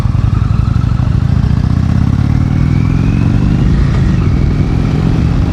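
A 2018 Indian Chieftain motorcycle engine drones on the road while riding, a loud, steady low rumble with rushing wind, its pitch rising slightly partway through.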